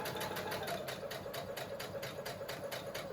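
A sewing machine runs steadily while stitching a fabric mask with elastic, its needle clattering in a fast even rhythm of repeated strokes, close and moderately loud with no talk.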